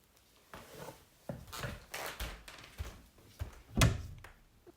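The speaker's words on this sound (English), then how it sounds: "My cat's knocking." A cat knocks against a door indoors: a series of irregular hollow thumps and taps, several in quick succession, ending in one louder bang, with no talking.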